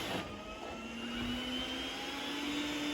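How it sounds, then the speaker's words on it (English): An iRobot Roomba S9+ robot vacuum runs on carpet, giving a steady close whir with a motor whine that climbs gradually in pitch as suction increases, continuous and alone without voices. "You can see it increased suction on the carpet."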